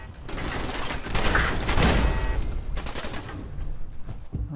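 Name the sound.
gunfire at the player in the video game Fallout 4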